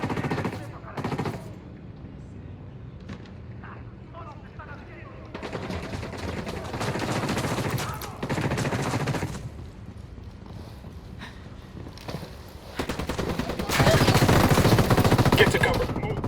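Gunfire in the tactical shooter Ghost Recon: Wildlands, with repeated bursts of automatic fire and shots in loud clusters, the heaviest barrage near the end, with quieter gaps between.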